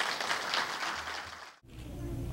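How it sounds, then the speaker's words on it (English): A round of applause for award recipients at a police department awards ceremony, a dense, fairly loud spell of clapping that cuts off abruptly and gives way to quieter room noise. "let's give them one last round of applause"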